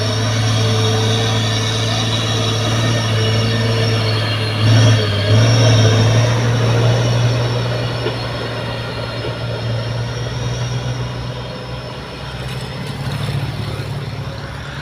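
A green Hino truck labours up the steep Bukit Kodok hill, its engine droning loud and steady with a deep sustained rumble that rises briefly as it strains, then eases and swells again across the climb.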